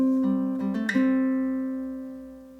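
Ukulele picking a tricky measure of a song: a few quick plucked notes and a brighter accent near the start, then a sustained chord ringing out and slowly fading, with no talking.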